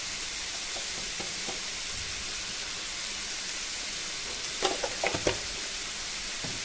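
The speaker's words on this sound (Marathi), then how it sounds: "आता आपल्याला चांगलं परतून घ्यायचं आहे।" Food sautés in a pan with a steady, dense sizzle throughout, and a few sharp scraping clicks of stirring come near the end.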